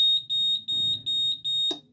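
A gas alarm being switched on or off gives a series of four or five shrill, evenly spaced electronic beeps, close and clear, ending with a brief click.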